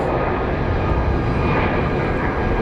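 An Alaska Airlines Boeing airliner at Phoenix Sky Harbor airport produces a loud, steady, broadband engine roar that fills the whole moment without pause, with no talking.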